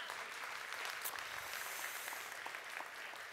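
Audience in a church service applauding for a new American citizen on the eve of Veterans Day, steady dense clapping filling the room from start to finish with no voices over it.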